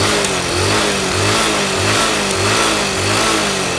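A motorcycle engine, one of the older Hero, Bajaj, Yamaha or TVS bikes, is held at full throttle, giving a loud, close, steady roar with a rhythmic pulsing beat for about four seconds and no talk.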